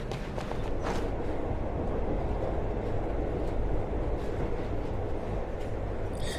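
A moving train rumbles steadily throughout, a dense, continuous roar of wheels and carriage noise with no break in intensity.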